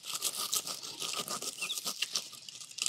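A bonsai tree branch is being cut off with pruning cutters, giving a close run of crisp crunching and snipping bursts with no voices.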